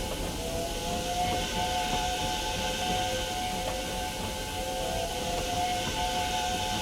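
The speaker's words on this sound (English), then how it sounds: "Gordon went on whistling and whistling and whistling." A steam locomotive's whistle holds a long, steady shrill tone over a constant hiss at a busy station, continuing without a break.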